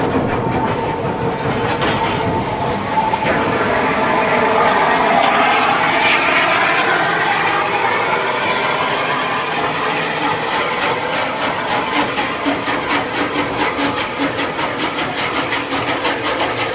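Steam locomotive Lord Nelson moving along a heritage passenger train at a terminus, with a steady hiss of steam and rhythmic clanking and rumbling that runs the whole time at close range.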